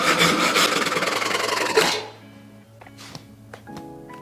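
Hand saw cutting short wooden dowel sticks clamped down, a steady rapid rasping for about two seconds, then stopping into quiet clicks and small handling knocks.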